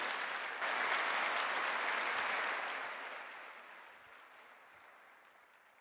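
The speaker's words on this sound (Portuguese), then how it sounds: "Quem recebe, dá um aplauso ao Senhor Jesus" Sustained applause from a church congregation at a Sunday service, filling a large hall, swelling after a brief start and holding steady before gradually fading away; no voices over it.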